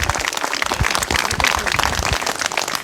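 Thin, scattered applause from an audience at a gathering about the UP TGT and PGT teacher exams, a steady patter of claps lasting a few seconds with no speech over it.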